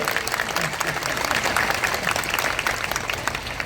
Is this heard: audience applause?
yes